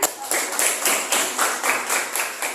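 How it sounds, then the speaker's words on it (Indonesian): A few people clap in a steady, even rhythm during a classroom session, with crisp, fairly close claps repeating about three times a second. "Silakan berikan tepuk tangan"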